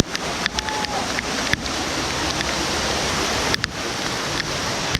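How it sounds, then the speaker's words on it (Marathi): Heavy rain falling in the hills during monsoon crab catching, a loud steady broadband wash of downpour and water with occasional sharp drops or knocks, close and continuous, no talk. "बघा पाऊस काय जोरात आहे"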